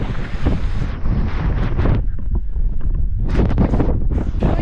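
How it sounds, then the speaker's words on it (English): Heavy wind roaring against the microphone on Stradbroke Island, loud and continuous, briefly easing in the middle before gusting again. "Holy, bloody windy as all heck over here."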